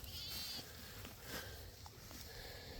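Sheep bleating outdoors, faint and distant, a few short calls over a low, steady background hiss.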